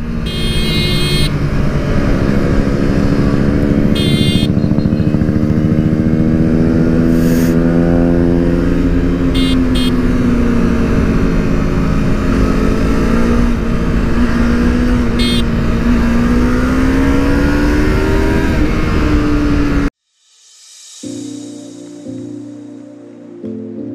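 A Honda CBR 250 motorcycle accelerates hard on a group ride, its loud engine droning and rising steadily for about twenty seconds under wind noise, then cutting off abruptly.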